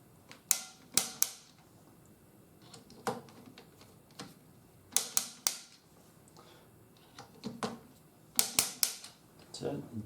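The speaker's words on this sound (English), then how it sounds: "now what you want to do is you want to turn them until they click 3 times" A torque driver tightening scope ring screws gives sharp mechanical clicks in close clusters of two or three, separated by short pauses, close and crisp against a quiet background.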